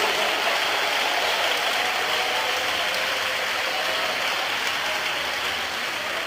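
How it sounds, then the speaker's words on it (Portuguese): Dense, steady applause from a large church congregation, continuous and fairly loud without letup. "Mais forte as palmas para Jesus."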